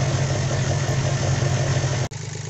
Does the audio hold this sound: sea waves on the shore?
no